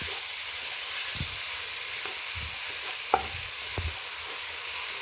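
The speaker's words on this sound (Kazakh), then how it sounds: "Араластырамыз енді бұл күштені." Meat and garlic stirred in a hot pan, a steady sizzle with a few scraping stirs of a utensil close by, no voices.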